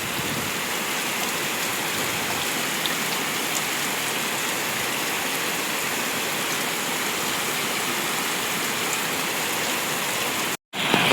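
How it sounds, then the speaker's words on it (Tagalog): Heavy rain pours steadily behind a house where floodwater has collected, a dense, constant hiss of downpour and rushing water that holds unbroken almost to the end before a momentary dropout. "Baha naman po dito sa likod."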